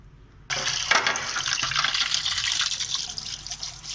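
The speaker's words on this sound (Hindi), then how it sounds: "अब हम दूसरे पानी से वॉश करेंगे।" Pig trotters being rinsed in a second batch of fresh water, a steady close splashing and running-water wash that starts abruptly and continues loud and unbroken, with no talk.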